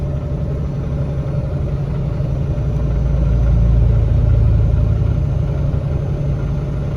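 A road roller works at a highway paving site in Littleton, North Carolina, heard as a steady low diesel rumble that swells briefly in the middle before settling back to an even drone, with heavy trucks nearby.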